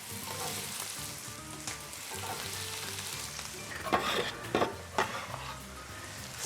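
Vegetables hit a hot skillet holding a tuna puttanesca sauce, giving a steady close sizzle and fry with a few sharper clinks and stirring bursts toward the end.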